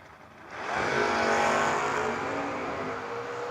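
A 1969 Camaro and a 1988 Mustang launch in a No-Box 660 drag race, engines roaring loud and close. The roar swells sharply after a brief idle, then holds a steady high-revving blare as they accelerate away.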